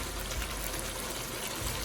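Water is poured from a cup into a pot of lobia mutton curry, white beans and mutton in masala, giving a steady close splashing and trickling wash for the whole moment with no voices.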